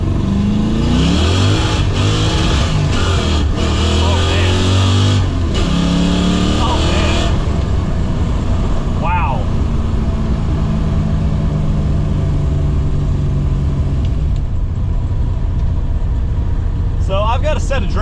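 A 1991 Fox body Mustang on drag radials revs hard and accelerates from first gear, a loud, close engine roar climbing through several bursts for about seven seconds before easing off into a lower rumble.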